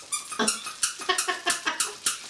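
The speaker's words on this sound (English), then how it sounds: "I also found a squeaky toy." Squeaky dog toy squeezed repeatedly up close, a quick series of about ten sharp, high squeaks with crinkly texture, each short burst separated by brief gaps.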